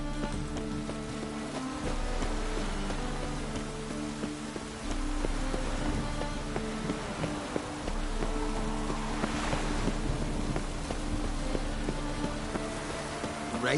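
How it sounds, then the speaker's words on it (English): Steady rain in The Witcher 3: Wild Hunt, a continuous soft hiss of falling drops laid over a low sustained tonal background, with no voices. "Rain doesn't bother you, it seems."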